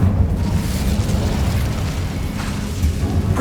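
An Incendio fire spell goes off in Hogwarts Legacy as a deep, roaring burst. It holds as a dense low rumble for a few seconds, loud and close, with no talking.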